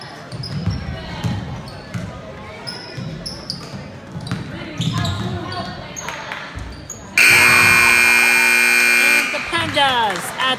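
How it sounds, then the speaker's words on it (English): In a high school gym during a junior varsity girls' basketball game, a loud, long electronic buzzer blares for about two seconds over crowd noise, ball bounces and a commentator's voice. "At the buzzer."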